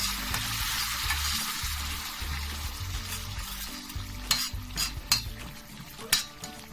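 Boiling water poured into a simmering pasta sauce gives a broad hissing rush that settles into bubbling, then a few clinks of a utensil against the pot near the end.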